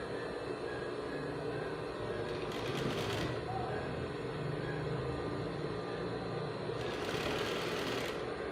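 A sewing machine runs steadily throughout, stitching the seam of a basic skirt with a continuous close mechanical whir, and a voice speaks briefly over it.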